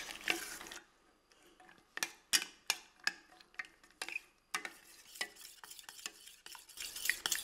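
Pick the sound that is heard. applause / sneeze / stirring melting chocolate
stirring melting chocolate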